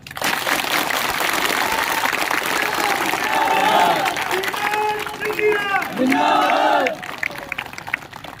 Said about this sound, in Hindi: अगर मेरे बात से सहमत हो तो जोर से ताली बजाओ।